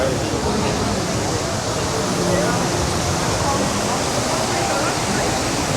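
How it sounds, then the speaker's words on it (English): Fountains outside a shopping centre in Los Cristianos, Tenerife, produce a steady, close rush of splashing water that fills the whole stretch without pause. "Fountains are on."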